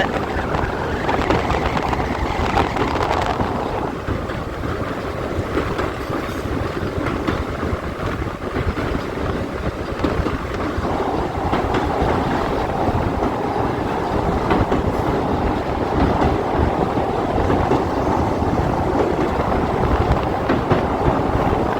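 A train crosses the sea bridge at Pamban close by in a steady, loud roar with rhythmic rail clatter, continuing without pause.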